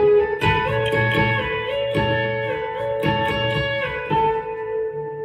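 An electric B-bender guitar plays the intro riff of a song, with sustained bent notes and chiming double stops in a steady, close-miked phrase, without talk.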